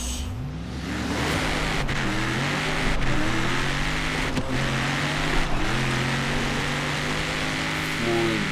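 A race car in Forza Horizon 3 revs and accelerates at the race start, engine pitch climbing and dropping through rapid gear shifts, loud and continuous on a snowy mountain course with no talk.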